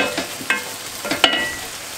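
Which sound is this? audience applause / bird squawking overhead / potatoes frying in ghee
potatoes frying in ghee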